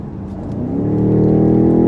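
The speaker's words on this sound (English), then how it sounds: "that is a lot of grunt. That's a twin-turbo V8, good for 523 horsepower and 553 pound-feet of torque." The twin-turbo V8 of a 2020 BMW X6 M50i revs up, its deep engine note rising and swelling louder over two seconds, close and with no talking.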